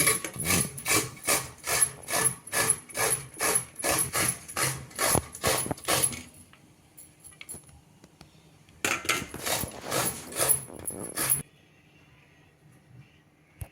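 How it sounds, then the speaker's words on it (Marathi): Tender cucumber grated with the peel on, a close rhythmic rasping of steady back-and-forth strokes that pauses briefly and then resumes for a second run before stopping. "कोवळी काकडी असल्यामुळे मी याची सालं काढत नाहीये सालं न काढता आपण किसून घेऊ"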